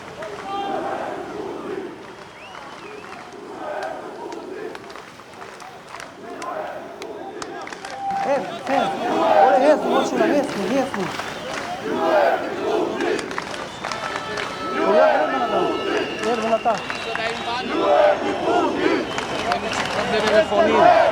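A large crowd of protesters fills a city boulevard, a continuous rumble of many voices with shouting and occasional clapping that swells louder midway, while a person talks over it.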